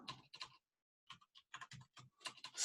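Quick bursts of typing on a computer keyboard while writing code, irregular clusters of close, crisp key clicks separated by short pauses.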